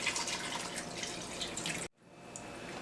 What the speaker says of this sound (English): take my chicken broth, pour that in there